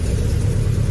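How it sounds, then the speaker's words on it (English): Car with a Solex 34 PICT 3 carburetor running after starting, a steady low engine rumble at idle, close and continuous with no talking. "So I'm gonna go ahead and start the car."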